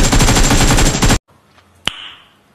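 A loud sustained burst of automatic gunfire in PUBG Mobile, rattling for about a second and cutting off abruptly, followed by near silence and one sharp distant crack.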